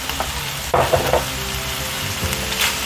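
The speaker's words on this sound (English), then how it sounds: "So we are just going to stir fry this just for like 1-2 minutes" Chicken with chopped potato and carrot sizzles steadily as it is stir fried in a pan, with a few louder scraping stirs of the utensil rising above the constant close frying hiss.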